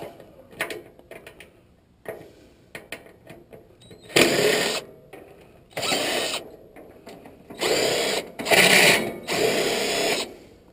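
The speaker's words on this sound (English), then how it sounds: "And then just go around and take all the screws out." A power drill backing screws out of a rusted Lennox air conditioner unit, with short bursts of buzzing motor whir separated by pauses and clicks, close and fairly loud.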